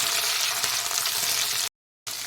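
Tomato is added to golden-brown fried onions in a pan for a winter vegetable egg curry, giving a loud, dense close-up sizzle that cuts out briefly and then resumes.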